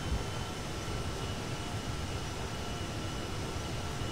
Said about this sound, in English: Put the gear down, and now we are landing this plane.